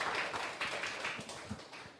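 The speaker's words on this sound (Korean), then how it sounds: "교수님 박수 한번 부탁드리겠습니다" An audience claps for a professor after a lecture on precision medicine, a soft, fairly distant patter of hands that holds steady for about two seconds.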